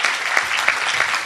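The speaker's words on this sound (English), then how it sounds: "can I hear a big round of applause for Kun Som Song?" An audience at an awards ceremony breaks into a short burst of steady clapping, dense and moderately loud, with no voices over it.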